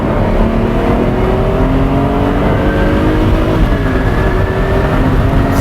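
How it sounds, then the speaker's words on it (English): A Ferrari Testarossa accelerating hard in second gear, heard from the cabin as a loud, continuous engine roar with rising, layered harmonics and heavy low rumble, with no talking. "Second gear, here we go."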